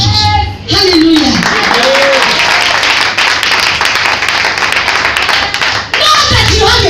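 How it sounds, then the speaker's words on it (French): A church congregation breaks into steady, dense applause after a call to praise, a loud close wash of many hands clapping that fills several seconds, with voices briefly heard at the start and end. "Acclamons Jésus."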